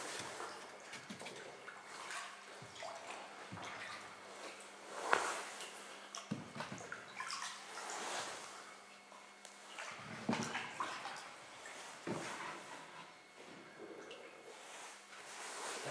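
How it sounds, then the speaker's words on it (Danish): Paddles splash and slosh in the water as boys paddle a log raft, with irregular wet strokes and dips repeating steadily throughout, fairly close and moderately loud, with no voices. "Hvis du padler i venstre side, så kan jeg padle i højre."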